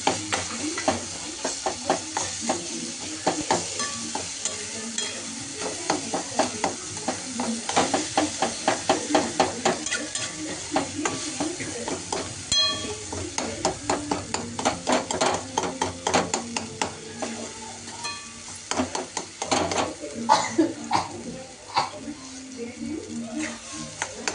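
Ingredients for eggplant bharta frying in oil in a pan, a steady sizzle and hiss with repeated scraping and stirring strokes throughout, close by, with some speech-like sounds mixed in.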